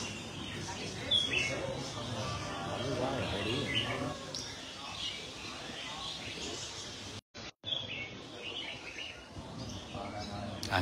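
Caged birds singing during a bird-song contest at a bird garden club, with chirps and short warbled phrases rising over a steady murmur of background talk, fairly faint, with a brief dropout partway through.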